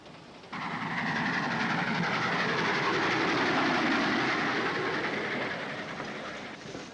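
A train runs steadily along the tracks, a dense rumbling roar with rhythmic wheel clatter that swells in abruptly, holds loud, then eases slightly, with no talking.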